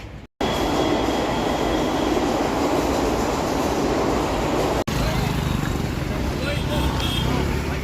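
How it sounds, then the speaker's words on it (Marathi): A train rumbles loudly at Chennai railway station, a continuous heavy roar with wheel noise that dips briefly twice, and a voice speaks faintly beneath it. "Chennai railway station."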